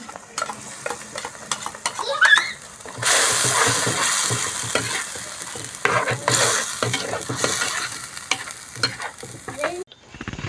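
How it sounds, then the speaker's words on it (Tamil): Ground coconut paste sautés in a pan for Kerala-style varutharacha chicken curry, with steady sizzling and frequent scraping stir strokes, loud and close, including a louder hissing burst partway through; no talking. "அந்த பேஸ்ட் ஆட் பண்ணிவிட்டு இதில் இருக்க பச்சை வாசனை போகிற வரைக்கும் நம்ம வதக்கணும்"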